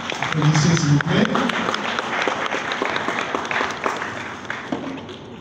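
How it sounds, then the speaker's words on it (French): Audience applause at a project launch ceremony on HIV/AIDS in Congo, sustained clapping from a crowd, fairly loud and close at first, then fading slightly, with some talk mixed in. "Applaudissez s'il vous plaît."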